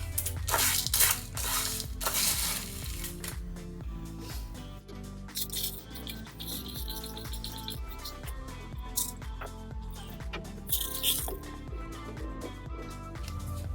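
Stone chips added into a resin turtle tray mold, producing close crunching, clinking and scraping sounds in irregular clusters that continue throughout.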